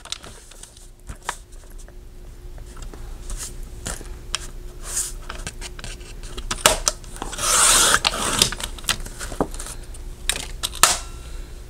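Paper pieces for a handmade spring folio are trimmed by hand, giving soft rubbing, scraping and rasping sounds with scattered taps. A louder, longer scrape swells in the middle before quieter handling resumes.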